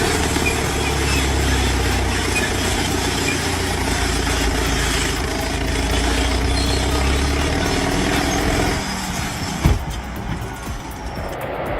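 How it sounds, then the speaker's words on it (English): A Takeuchi excavator's diesel engine rumbles steadily at work, a continuous low growl with mechanical clatter and a sharp knock near the end as the load shifts. "Watch how the machine leans into the pull, engine growling, treads digging in."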